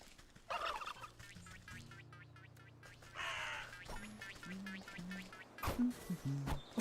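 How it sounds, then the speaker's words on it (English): Turkeys in the video game Wytchwood gobble in several bursts, rattling calls spread across the scene at moderate volume, mixed with other short bird-like caws and soft game sounds, with no voices. "Stay away from the turkeys, they're aggressive."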